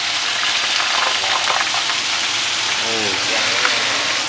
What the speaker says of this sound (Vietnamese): Đây mình bỏ miếng đậu vào mình chiên.